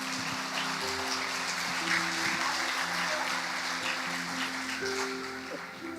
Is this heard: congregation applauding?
yes